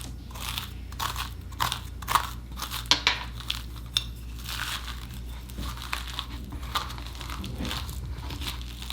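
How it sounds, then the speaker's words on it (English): A spoon scrapes seeds and stringy fibres out of a raw pumpkin, giving a steady run of close, crisp crunching and wet scraping strokes with a rough, irregular rhythm and no talking. "Even though we're scooping it, doesn't it have a nice crunch sound?"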